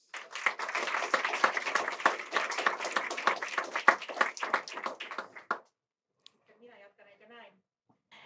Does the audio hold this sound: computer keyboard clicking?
no